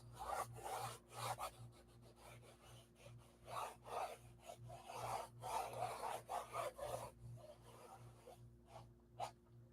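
Oil being rubbed into the surface of a painting by hand, giving a steady run of soft, close rasping strokes in an uneven rhythm, with a low mains-like hum running underneath throughout.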